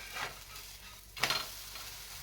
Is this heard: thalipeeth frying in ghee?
yes